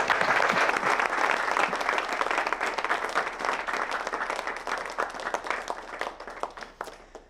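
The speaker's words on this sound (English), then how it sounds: "How about a big round of applause for our band tonight?" An audience applauds a band after a performance, a dense, sustained wash of clapping from a large crowd that gradually thins and fades toward the end.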